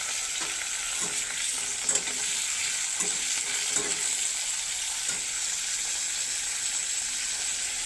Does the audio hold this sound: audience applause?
no